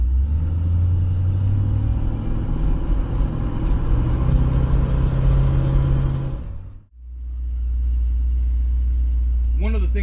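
Car engine fitted with ACES EFI revved hard, a loud, steady, close-up rumble that dips sharply for a moment near the end, then builds back up.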